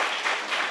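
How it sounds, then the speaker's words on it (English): Audience applause at a live launch interview, a steady broadband wash of clapping filling the whole short moment with no talk over it. "Yes, Syreeta, clap it up."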